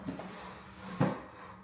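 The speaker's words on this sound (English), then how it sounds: "Okay, let me shut this door." A door shut indoors in a home kitchen, heard as a single short wooden thud near the middle, close by and moderately loud against a quiet room.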